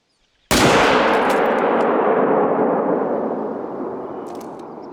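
A single loud hunting-rifle shot at a moose in theHunter: Call of the Wild, set in the Yukon, a sharp crack after silence followed by a long rolling echo that slowly fades.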